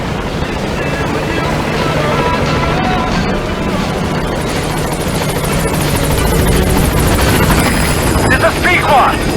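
Helicopter arriving at a landing zone in Metal Gear Solid V: The Phantom Pain, a steady loud rotor and engine roar with rushing wind filling the whole stretch, with radio-style game dialogue mixed in.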